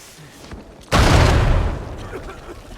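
A sudden loud explosion booms in the video game Uncharted 4, a heavy blast with a rumbling tail that slowly fades, following a few quieter sounds beforehand.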